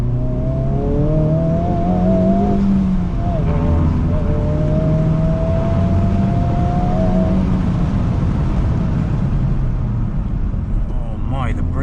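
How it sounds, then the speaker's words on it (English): A Honda Civic Type R FL5 engine hums steadily from inside the car while driving in Japan, with rising and falling pitch as it pulls through gears. A person talks over the moderate engine drone. "you can hear the engine notes"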